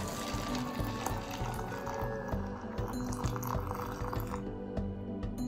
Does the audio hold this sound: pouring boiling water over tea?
yes